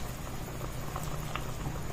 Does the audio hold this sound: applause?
no